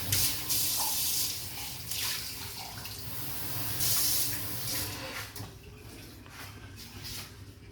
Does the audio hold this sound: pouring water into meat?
yes